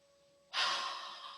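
A single deep breath during meditation, a sudden close airy exhale that starts abruptly and trails off over about a second, with no talking.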